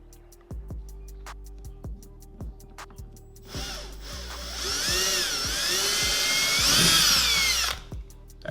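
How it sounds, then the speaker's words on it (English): An electric drill bores a 9/16-inch hole through a 2020 Road Glide motorcycle saddlebag. A few sharp taps and clicks come first, then a close, loud, steady whining drill runs for about four seconds before stopping abruptly. No one speaks. "we got to drill a hole that's 9/16"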